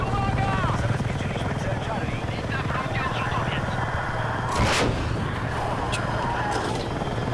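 Helicopter in the video game Battlefield 6, flown with a pilot and gunner during a firestorm battle, gives a steady, loud rotor-and-engine drone throughout, with a brief sharp burst midway and voices talking over it.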